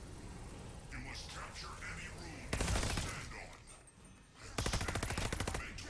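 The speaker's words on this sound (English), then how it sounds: "the normal just gunshots of this gun sound like it's a pack-a-punch gun" Rapid bursts of gunfire from a weapon in Call of Duty Vanguard Zombies, two dense volleys of loud repeated shots, with a voice talking underneath beforehand.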